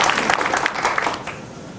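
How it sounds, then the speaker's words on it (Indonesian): Audience applause breaks out at a debate, a dense burst of many hands clapping at close range that fades slightly toward the end. "Boleh tepuk tangannya"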